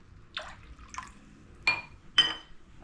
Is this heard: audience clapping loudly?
no